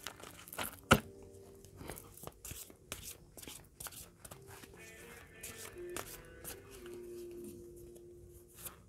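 Tarot cards are drawn and laid down on a table: a few soft papery slides and light taps, quiet and close, with tonal background sound underneath.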